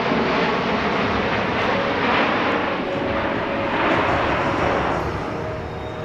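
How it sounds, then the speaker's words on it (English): A Boeing C-17 Globemaster III passes show center at an air show with a steady, broad jet roar that holds loud for the whole stretch, swelling slightly and easing near the end, with no voices. "Notice how quiet the C-17 is while passing show center"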